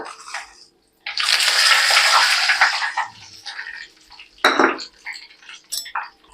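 A sudden burst of loud hissing sizzle as asafoetida, dried red chillies and curry leaves hit hot oil in a pan lasts a couple of seconds, then fades into quieter crackling with a few sharp metallic clinks.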